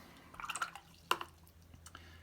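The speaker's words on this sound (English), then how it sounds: "Throw a few splashes in there as well, because that's always quite nice." Watercolour paint splashes drip onto paper: a quick cluster of soft, faint wet drips, then one sharper splat a moment later, with nothing else in the quiet room.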